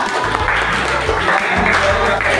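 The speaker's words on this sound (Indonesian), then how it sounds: "Berikan tepuk tangan kepada kelompok 3." Applause from a classroom audience for a student group presenting at a university teacher-training session, a steady dense patter of clapping that runs the whole short stretch over a low background hum.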